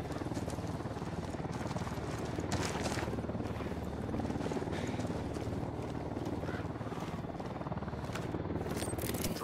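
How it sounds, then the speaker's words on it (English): A drone taking off in the game Ghost Recon Wildlands, a constant whirring rotor drone that stays fairly faint under a busy, rumbling background. "We'll send in a drone and record the meet."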